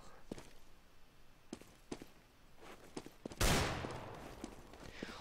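In a Counter-Strike match, scattered quiet game footsteps and small shots lead up to one sudden, loud gunshot with a trailing noise burst. The sound is fairly faint overall.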